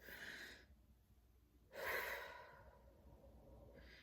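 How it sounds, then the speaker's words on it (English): A pug snores in the background, with two breathy snorting bursts separated by quiet pauses, fairly faint and close. "my pug and he's snoring in the background"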